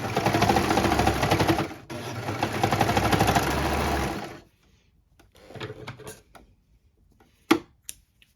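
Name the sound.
sewing machine stitching fabric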